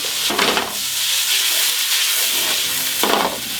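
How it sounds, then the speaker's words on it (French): Onions sizzle and hiss loudly in a pan on full heat as they caramelize, with steady frying noise and occasional stirring bursts from a spatula. "Les oignons commencent à caraméliser"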